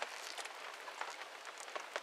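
Light rain falling at Lake Smolno, a steady soft patter with scattered sharper drops close by, quiet and alone throughout.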